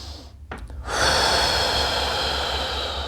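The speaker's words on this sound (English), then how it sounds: "now I hang out and breathe" Deep, slow breathing while holding a door handle lat stretch: a soft close breath early on, then a long, loud, airy exhale that continues steadily to the end, with no talking.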